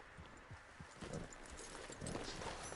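Hoofbeats of a horse in the video game Red Dead Redemption 2 clip-clop in a steady rhythm, close and fairly loud against a faint background of ambient noise.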